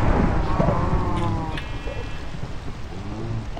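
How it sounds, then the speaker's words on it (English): Steady rain in Minecraft (Project Ozone Lite) patters continuously as a dense hiss, with a low thunder rumble early on, heard alone without talking. "and then it starts raining"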